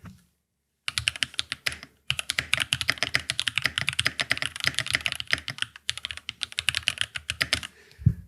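Close, crisp keystrokes on a mechanical keyboard in quick, uneven bursts, with a couple of short pauses between runs of typing.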